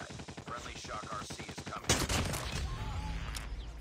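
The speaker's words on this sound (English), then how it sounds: "Did they shoot two shots at a time?" Rapid video-game gunfire with a Shock RC weapon, loud and close: dense bursts of paired shots fire in quick rhythm, then a sharper, heavier blast lands near the middle, followed by lingering crackle and echo.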